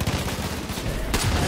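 Gunfire in the video game Far Cry 5, a dense rattle of shots running through the clip, then a sharper, brighter burst near the end, loud and close.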